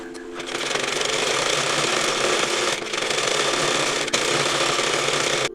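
A sewing machine stitching a puff sleeve, running steadily and loudly close by with a dense mechanical whir that barely pauses, a short dip near the middle before it carries on to the end.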